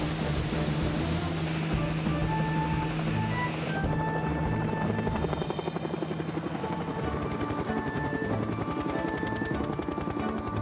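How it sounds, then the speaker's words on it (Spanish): Cartoon helicopter flying in a children's animated fire rescue story, a steady loud rotor chop and engine whine running throughout, with music underneath. "No si vas en helicóptero."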